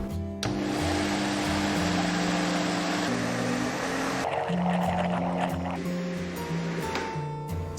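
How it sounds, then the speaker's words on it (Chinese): Kitchen blender grinding soaked, drained rice with water into a smooth rice slurry, a steady loud whirring motor drone with shifting pitch that runs continuously throughout, with no talking. "然后给它打成米浆。"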